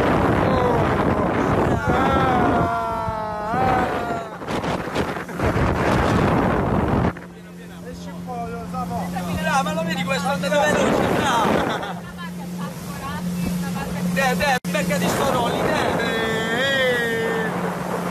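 A motorboat engine drones at sea while wind buffets the microphone in loud gusts as the boat is driven; a steady low engine hum runs beneath frequent talking and shouting.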